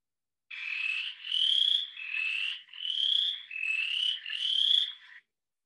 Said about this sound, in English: Next up, we have the western chorus frog.